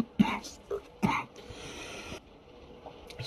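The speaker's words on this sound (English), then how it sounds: "Sorry, I had to pause the video to cough for a second." A person coughs twice, close and abrupt, with a short gap between the bursts, then a quiet room tone follows.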